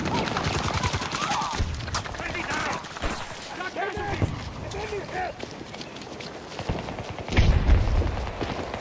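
Gunfire and a grenade blast in the video game Battlefield, a busy, loud battle texture with shots throughout and a heavy low boom near the end, while voices call out over the fighting.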